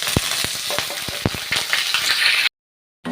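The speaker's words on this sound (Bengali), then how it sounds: "এবার আমি ফোড়নে দিয়ে দেবো শুকনো লঙ্কা, 5 ফোড়ন আর তেজপাতা।" Dry red chillies, panch phoron and bay leaf hit hot oil for a tempering, making loud, close crackling sizzles with sharp pops and stirring before the sound briefly cuts out.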